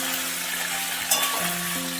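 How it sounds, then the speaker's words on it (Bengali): Ginger and garlic paste fries in a pan with a steady, close sizzle, and a brief scrape of stirring comes about halfway through. "আদা বাটা রসুন বাটাটা দিয়ে একটু নেড়ে নিচ্ছি।"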